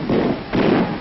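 Old artillery cannon fired during a historical weapons demonstration by a Civil War volunteer infantry unit, two loud broad blasts in quick succession, each with a rumbling tail.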